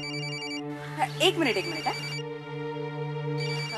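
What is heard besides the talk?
telephone ringing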